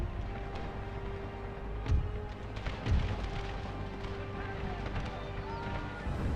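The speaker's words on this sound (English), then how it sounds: "Till the cannons can get out of there." Cannon artillery fires in an Empire: Total War battle mod, two deep booms standing out about a second apart over a continuous battlefield din of mixed noise.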